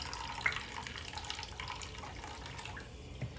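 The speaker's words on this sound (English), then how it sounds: "just add a little bit more warm water." Warm water poured and splashing into a shallow bath for a hedgehog, a soft continuous trickle with small drips and one brighter splash, quiet and close.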